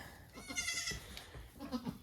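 Goats in a herd bleat faintly in the distance, a few short calls spread across the moment with quiet background noise.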